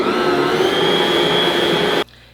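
A stand mixer kneads homemade bread dough with a steady, loud motor whir that runs close and unbroken for about two seconds before cutting off abruptly.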